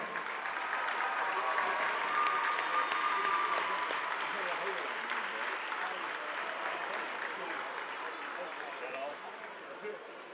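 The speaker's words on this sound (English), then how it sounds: "Join us in giving Summertown Girls Golf Team a huge round of applause for" Sustained applause from a crowd at a high school basketball game fills the whole stretch, steady and moderately loud before gradually easing, with a few voices mixed in.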